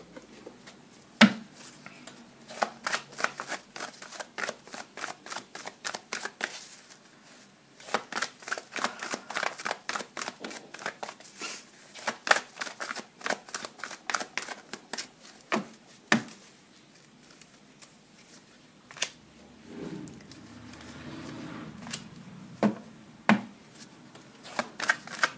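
Oracle cards shuffled by hand, a long run of quick crisp riffling flicks and soft slaps, close and fairly quiet, pausing briefly before resuming, with a moment of murmured speech.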